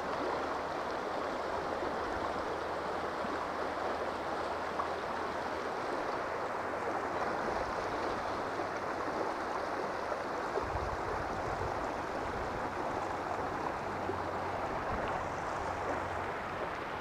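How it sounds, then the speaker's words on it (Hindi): Fast-flowing river water near Siliguri rushes in a steady, loud, broadband roar that stays constant throughout, with no voices. "अब आप पानी का आवाज़ सुनिए"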